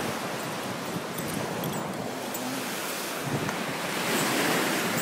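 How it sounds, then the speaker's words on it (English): Waves on a Lake Michigan beach make a continuous broad wash of surf, mixed with gusting wind buffeting the microphone, steady and fairly loud throughout with no talking. "It's the beach."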